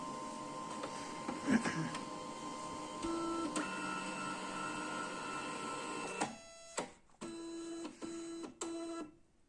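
The scanner motor of a Canon i-SENSYS MF4410 printer, just repaired after an E202-0002 error caused by its motor wiring, hums and whines steadily, then runs in several short bursts that start and stop.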